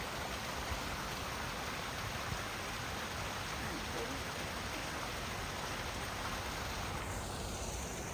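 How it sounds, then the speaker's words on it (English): A small waterfall streams steadily on a hike to Mossbrae Falls, a continuous close wash of falling water that fills the whole stretch without pause. "Oh, there's a little waterfall."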